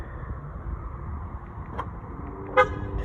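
A new car's horn gives a single short chirp as its doors are locked by remote on a street. Traffic rumbles faintly underneath, and a softer click comes just before the chirp.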